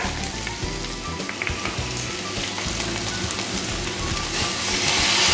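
Potato Manchurian pieces sizzle and crackle steadily in hot oil in a pan, a loud, continuous dense frying hiss that swells slightly toward the end, with no voices.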